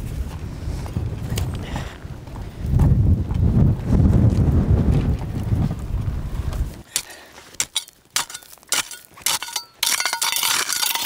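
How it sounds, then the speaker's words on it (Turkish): Wind buffets the microphone at a campsite, a loud rumbling roar for several seconds that then breaks into gusty bursts with light clinking sounds. "Rüzgar nasıl vuruyor?"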